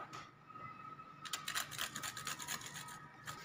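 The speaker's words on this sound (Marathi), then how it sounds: "कच्चा पिस्ता किसून टाकणे हे ऑप्शन आहे" Raw pistachios rubbed over a hand grater for homemade royal rajbhog ice cream, a steady close rasping scrape that grows denser partway through, with no talking.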